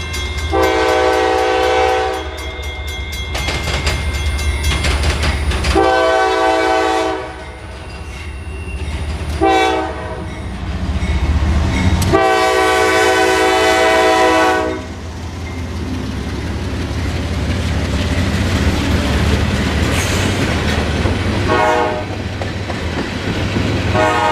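A northbound Norfolk Southern freight train passes close by, its horn sounding in several loud blasts over the engine rumble, followed by the steady rolling clatter of freight cars on the rails.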